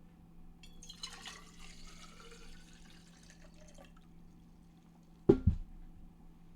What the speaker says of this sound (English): Let me get some water.